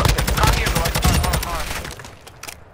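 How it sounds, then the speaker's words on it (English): Rapid gunfire in Call of Duty: Modern Warfare II, loud dense bursts of shots crackling close by, easing off toward the end, with players' voices talking over the shooting. "I'm being shot at"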